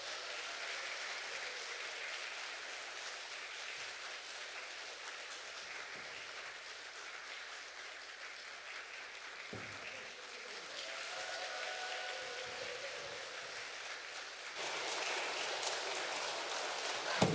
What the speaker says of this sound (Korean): 세게 박수를 좀 쳐주시기 바랍니다